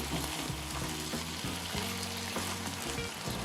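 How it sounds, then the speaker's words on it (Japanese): Costco sakura chicken breast cooks over high heat, its sauce boiling off in a steady loud sizzle and bubbling, with a few stirring scrapes and no voices. "あとは強火で最後汁飛ばします。"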